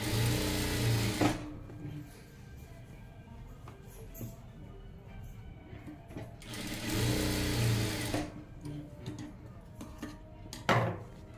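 Sewing machine stitching tucks into fabric, running in two steady whirring bursts separated by quieter handling of cloth and small clicks, close and alone.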